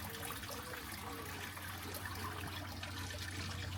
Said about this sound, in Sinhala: එතන මේ ඔක්කොම මේ වතුර වගේ එනවා.